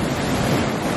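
Surf washing onto a beach with steady wind buffeting the microphone, a continuous broadband roar of breaking waves close by with no voices.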